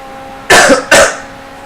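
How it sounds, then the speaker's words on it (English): Two quick, loud, close coughs from a man still sick after two and a half weeks, a short pause between them, over a faint steady background hum. "I'm still coughing."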